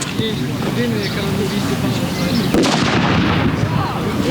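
An airsoft grenade bursts midway through a mock combat exercise at a school sports game, a single sharp crack cutting into steady loud outdoor noise, with chatter and commotion around it.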